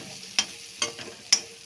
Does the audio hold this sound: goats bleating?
no